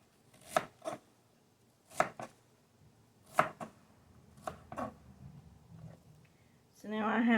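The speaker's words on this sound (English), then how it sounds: "Now I'm going to cut in bite-sized pieces" A knife chops cabbage into bite-sized pieces on a cutting board for cabbage rolls, with four or five distinct sharp thunks spaced about a second apart, then a softer rustle as pieces are moved.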